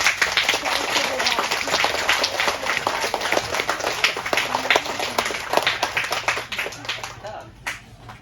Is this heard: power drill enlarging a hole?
no